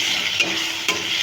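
Spices and chopped tomato sautéed for a chickpea curry, a steady close sizzle with two brief stirring scrapes, no talking.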